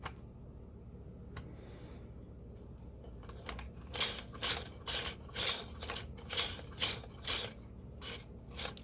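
A 3D printed solenoid motor running partly assembled, giving a rhythmic scraping rasp, about eight evenly spaced strokes after a quieter start, faint and without talk.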